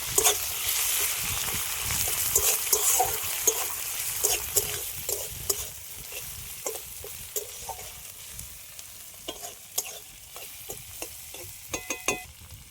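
Ground ginger and garlic paste frying in mustard oil for a village-style fish curry, a close bubbling sizzle with repeated scraping and stirring strokes of a spatula against the pan, louder at first and then settling, with no talk.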